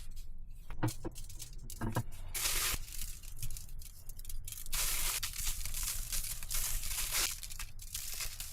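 Aluminium foil crinkles and rustles as fresh meat and vegetables are wrapped, with irregular crumpling bursts and soft handling noises, close and fairly quiet.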